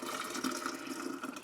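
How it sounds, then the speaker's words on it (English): Blueberry and blackcurrant juice pours steadily through a kitchen strainer, a continuous close liquid splash and trickle with no talking. "But I am just pouring it through this strainer"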